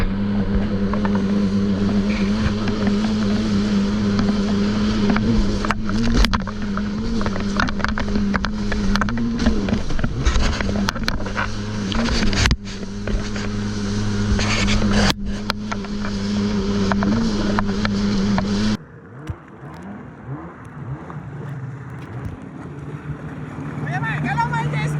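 A jet ski engine drones steadily on the sea with wind buffeting the microphone, voices talking over it, then the engine noise drops sharply near the end.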